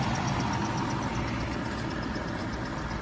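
A Cadillac DTS engine idles steadily and close by, a continuous low rumble with a faint rhythmic knock, no voices.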